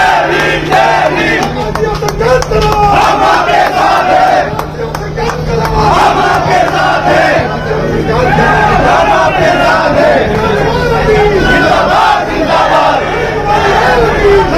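A large crowd at a Bahujan Samaj Party political rally in Delhi roars, chants and cheers loudly and continuously as people stand to welcome a speaker, the noise dense and unbroken.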